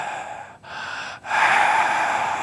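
A preacher's voice imitates the rapid gasping breath of a dying person, loud close breathy rasps broken by two brief pauses before a longer sustained gasp.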